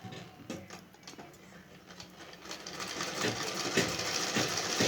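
A sewing machine stitches a pico fall along the edge of a saree, its needle ticking in a fast mechanical rhythm that starts slow and quiet, then builds louder and steadier, close up with no talk.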